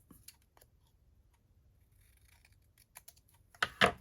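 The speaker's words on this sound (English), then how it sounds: "I'm going to cut that off" Scissors snip through paper for a junk journal, a couple of faint ticks then two sharp, close cuts near the end, with no talking.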